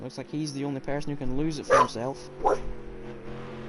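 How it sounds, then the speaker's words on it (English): A pet dog barks several times in the background of a home setup while someone commentates a Project Cars 2 GT3 league race at Spa Francorchamps, the yips and bow-wows sitting under his continuous talk. "I apologise for my dog barking in the background."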